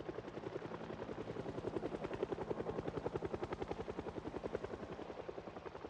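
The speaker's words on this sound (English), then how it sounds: "We've got our 8th helicopter event happening right now." Helicopter passing over in the survival video game Project Zomboid, a steady, loud rotor chop with fast regular thumping that holds throughout the clip, with no talk over it.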